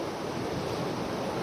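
Ocean waves washing in steadily at night beside someone fishing under a bright moon, a continuous broadband surf roar with no breaks, fairly close and moderately loud, nobody talking.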